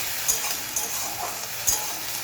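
Onion paste stirred and fried in oil until browned, a steady close sizzle broken by a few sharp spatula scrapes, no talking.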